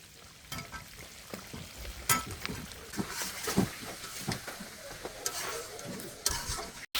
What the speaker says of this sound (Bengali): আমাদের মাংস কষানো প্রায় শেষ।